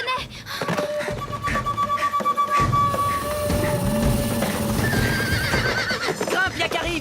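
A cartoon pony neighs and whinnies loudly while galloping hooves clip-clop steadily beneath a busy animated soundtrack, the whinny rising over the pounding rhythm.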